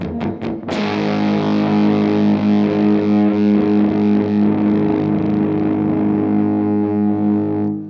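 A voltage-starved fuzz pedal: a heavily distorted, fuzzy guitar chord rings out after a few sharp attacks, sustaining with a buzzy, slightly sputtering tone that slowly thins as it fades.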